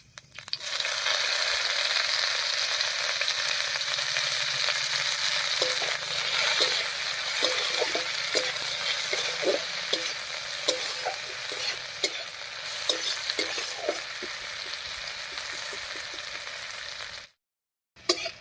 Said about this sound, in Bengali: আর পেঁয়াজ কিছু দিয়ে ফোড়ন দেবো